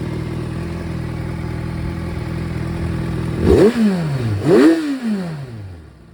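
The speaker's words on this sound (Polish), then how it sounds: "Silniczek bardzo ładnie, fajnie reaguje. Obroty trzymać idealnie." A Kawasaki Versys motorcycle engine idles steadily, then rises through two sharp throttle blips that climb and fall away, close and loud, before settling back down.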